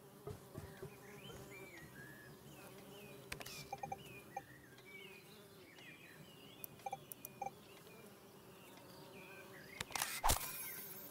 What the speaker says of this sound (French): Les mouches.